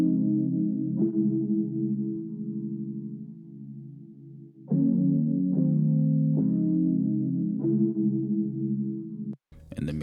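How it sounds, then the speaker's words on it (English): Analog Labs keys preset in a soulful R&B sample, sustained chords with chorus and effects processing, each new chord struck with a soft attack and ringing on, playing alone with no talk. "The next sound in my main section is keys from Analog Labs."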